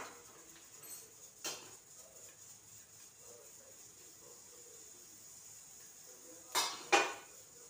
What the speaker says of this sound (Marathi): बघा 1 चमचा मोहरी, अजून 1 चमचा टाकते.